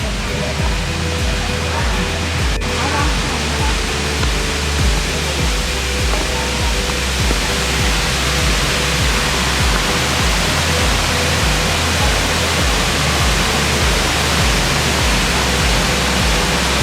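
The first tier of Erawan waterfall pours in a constant, close, full-bodied roar of flowing water that stays steady and loud from start to finish.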